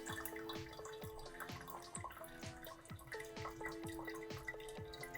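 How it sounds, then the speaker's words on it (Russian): Coffee brewing through a Delter coffee press, water passing through the coffee puck, with a steady rhythmic dripping and trickling close by, alone and fairly quiet. "кофе заваривается непосредственно во время прохождения воды через кофейную таблетку"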